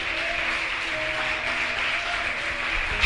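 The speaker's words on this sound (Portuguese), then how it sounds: "Dá uma salva de palmas para Jesus." A church congregation claps for Jesus, a dense, even wash of applause sustained for a few seconds without a break, moderately loud and close.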